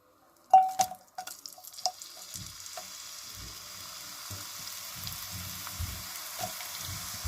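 Onion dropped into a hot pan for a vegetarian spaghetti stir fry sets off a sharp burst of sizzling, which settles into a steady, quieter frying hiss with light crackles and occasional stirring.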